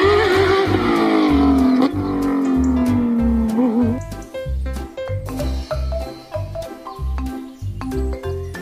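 A toy Formula One race car plays its electronic sound: a loud, whining engine tone sweeps down over a few seconds. A bouncy, beeping rhythmic tune with a thumping beat follows and continues to the end.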